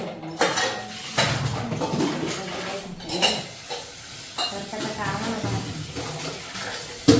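A child scrubs and handles metal kitchen utensils, making clanks, scrapes and rattles of pots and dishes in irregular bursts alongside splashing water. Adults talk intermittently nearby.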